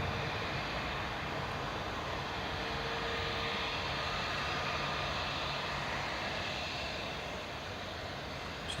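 A TUI Boeing 737-800 airliner lands at Newcastle International Airport on runway 25, its engines a steady broad roar at moderate distance, holding evenly throughout with no talk.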